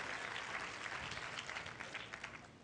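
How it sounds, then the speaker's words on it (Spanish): A church congregation applauding together, a brief, dense wash of clapping from many hands, fairly soft and even throughout. "Denle un aplauso al Señor, que Dios es bueno."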